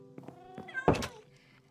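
Tame cats in Minecraft give a short meow, brief and close, alongside a soft thunk, with no talking.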